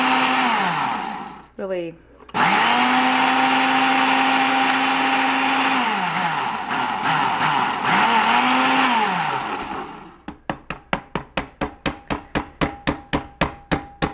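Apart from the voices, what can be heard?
single-serve blender blending waffle batter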